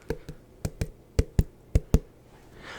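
Fingers knock on a cantaloupe in close, quiet ASMR style: eight hollow, dull taps in loose pairs, spaced evenly across the moment, with no voice over them.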